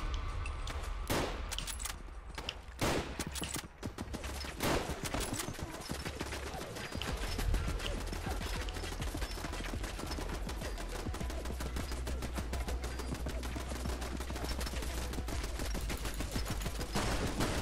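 A damaged turret fires in the Fallout London video game, a dense fusillade of rapid, loud gunshots that starts in sharp bursts and then runs as continuous heavy automatic fire throughout.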